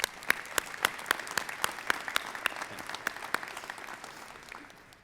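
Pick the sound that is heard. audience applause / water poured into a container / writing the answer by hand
audience applause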